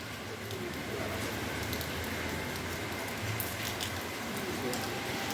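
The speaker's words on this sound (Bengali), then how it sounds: "কি বৃষ্টি, এই দেখো" Steady rain pours down nearby, a dense, even hiss that holds without a break for the whole stretch.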